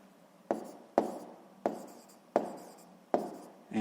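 Chalk or pen strokes writing out a sixth-grade math solution in cubic millimetres, five sharp taps each trailing into a short scratch, close and fairly quiet with no talk.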